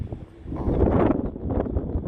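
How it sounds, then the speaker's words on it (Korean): Strong gusty wind at Seogwipo on Jeju batters the microphone outdoors with a continuous low roaring rumble, swelling and easing over a couple of seconds. "바람 소리가 들리시죠, 여러분들?"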